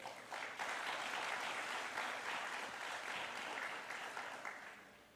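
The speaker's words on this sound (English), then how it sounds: "Give yourselves a big round of applause." Audience applause at a MICHELIN Guide awards ceremony in Kuala Lumpur and Penang, a steady sustained clapping from a large crowd that holds for several seconds before tapering off.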